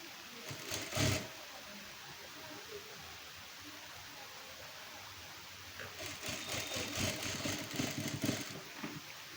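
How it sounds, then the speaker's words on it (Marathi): A sewing machine stitches lace onto a blouse, heard faintly as a short whirring burst followed by a quiet gap, then a longer run of rapid, buzzing stitching. "परत आपल्याला ह्या साईडला पण डबल टिप मारून घ्यायची आहे."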